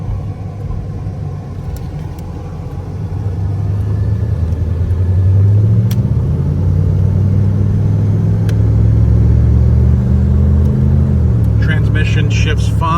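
A 1987 Chevrolet Monte Carlo SS engine hums and rumbles while driving, pitch rising as it accelerates and then holding steady, heard from inside the car.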